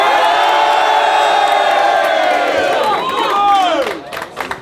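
Crowd at a Manchester rap battle event roaring, whooping and shouting together, loud and sustained, then fading toward the end.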